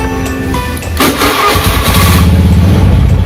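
A Honda Beat Fi 110cc injected automatic scooter engine starts up, with a brief cranking whir followed by the motor catching and settling into a loud, close, steady idle.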